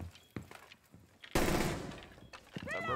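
Heavy automatic gunfire from a hard-recoiling weapon in Rainbow Six Siege erupts loud and close in a sustained, rattling burst after a few quieter sounds, then fades out near the end.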